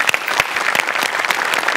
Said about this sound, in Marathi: तुझ्यासाठी एकदा जोरदार टाळ्या.